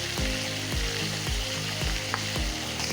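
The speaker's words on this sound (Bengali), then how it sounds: "চিকেনটা একটু ভাজবো।" Chicken fries dhaba-style in a pan with a loud, constant sizzle close by. Stirring scrapes repeat about every half second, with no talk.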